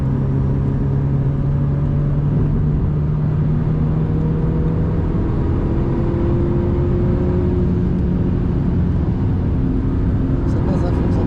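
An Alpine A110 S at full throttle on a wet Spa-Francorchamps track, its engine note droning loud and steady with rising harmonic tones throughout, a constant close rumble with no break.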